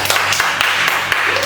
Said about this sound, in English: Did she deserve a clap?